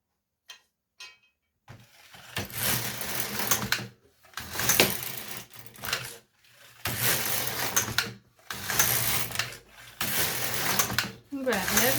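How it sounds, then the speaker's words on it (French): An LK150 knitting machine carriage slides back and forth across the needle bed in several loud, rattling passes of a few seconds each, separated by brief pauses, with someone speaking French around them. "Donc voilà, là je tricote."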